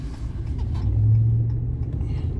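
Ram 1500 pickup on snow tires rolls along with a steady low road rumble and engine hum heard from inside the cab, swelling slightly midway.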